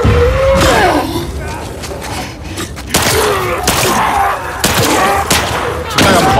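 Explosive instant-kill attacks in The Last of Us Part II on hard difficulty, several sharp booming blasts and gunfire-like bursts landing in uneven clusters, loud and close, with someone talking between them.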